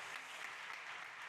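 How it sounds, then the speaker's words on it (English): Faint, steady applause from a startup competition audience, a brief wash of distant clapping with no voices. "Big applause."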